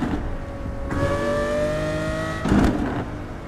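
Car engine in the racing game Assetto Corsa revving hard, its whine climbing steadily in pitch before a quick upshift breaks the tone and the revs rise again, loud and close.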